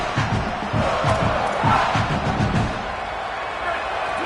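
Stadium crowd noise in EA College Football: a loud, constant roar of a big crowd with rhythmic low thumps early on, under running commentary.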